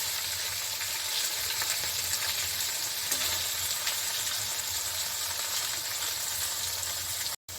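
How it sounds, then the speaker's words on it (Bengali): Paneer frying on high heat, a loud, continuous close sizzle and crackle of hot oil that holds steady before a sudden brief cutout near the end. "আমি হাই হিটেই ভাজছি পনিরটাকে।"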